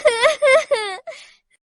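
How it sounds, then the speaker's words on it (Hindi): Eerie wailing cry from inside a tree in an animated horror story, a voice rising and falling in three drawn-out moaning phrases, then a short fading sob, close and fairly loud. "उसे पेड़ के अंदर से किसी के रोने की आवाज सुनाई दी"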